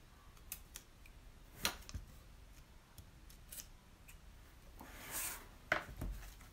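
Paper being cut for a watercolour frame mat, with quiet scattered snips and rustles, a louder sliding swish near the end, close but faint in a still room.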